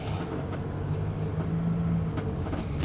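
Steady low drone of a Mercedes Sprinter motorhome under way at higher speed, engine and road noise rumbling evenly from the cabin with faint rattles, no talk.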